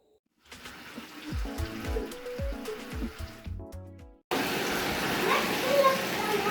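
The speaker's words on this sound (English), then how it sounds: "let's fill up some water." A bathtub filling with water, a strong steady gushing rush from the tap that starts abruptly after a spoken passage and continues to the end.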